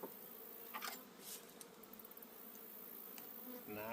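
Buckfast honey bees buzz steadily around an open hive, producing a dense, continuous hum with occasional louder passes of individual bees close by, faint and unaccompanied by talk.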